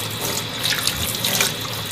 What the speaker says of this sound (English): is apply some cold water